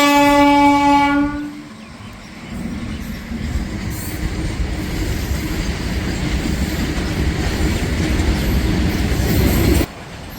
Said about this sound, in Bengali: এই যে বর্তমান ট্রেন মহারাজ চলে এসছে।